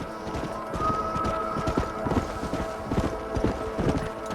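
Horses' hooves clip-clop steadily in the Red Dead Redemption video game, a close, brisk and continuous run of hoofbeats that lasts throughout, with no talk over it.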